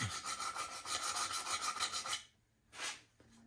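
Steady rasping of sandpaper worked over a dented chrome trim strip from a Vendo 81 Coke machine, a continuous close scrubbing run that stops abruptly, followed by one short final pass.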